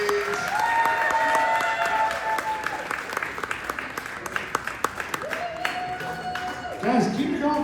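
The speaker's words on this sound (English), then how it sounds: "Keep that round of applause, guys." Audience applause in a comedy club during a stand-up show, loud and steady for several seconds with a host's voice and whoops over it, swelling again near the end.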